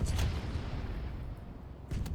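Heavy booming gunfire and low rumbling blasts from a flamethrower tank battle in Tanki Online, with louder bursts at the start and end and a dense, continuous roar between.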